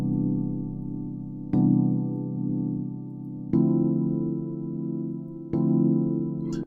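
Four sustained synth chords in succession, each held about two seconds with a clean attack, played alone at a steady level.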